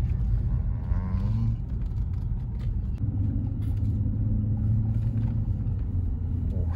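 Low, steady engine and exhaust rumble from a Mercedes-Benz S550 long-wheelbase S-Class while driving, a continuous deep drone heard from inside the cabin, with occasional voices underneath.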